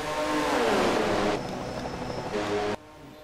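Stock cars, Fords, a Pontiac and an Oldsmobile, roar past on a racing track, a loud engine howl that fades as the pack moves away, then cuts off abruptly.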